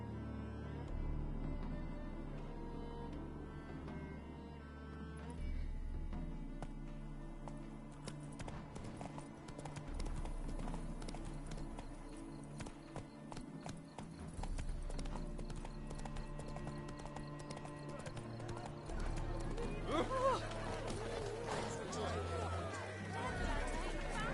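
Roach, Geralt's horse in The Witcher 3: Hearts of Stone, gallops with a steady, rapid clip-clop of hooves over a bed of game music, with a brief neigh and faint crowd babble mixed in.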